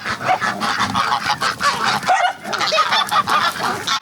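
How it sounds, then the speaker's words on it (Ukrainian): A noisy flock of geese honking continuously on a farm, many overlapping calls close by with a busy, chattering rhythm and no talking. "Гуси, качки на господарстві, кури, свиня і коза."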